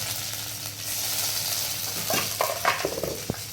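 Ginger garlic paste goes into hot oil with mustard seeds and cumin, making a steady close sizzle that turns into sharper crackles and pops near the end.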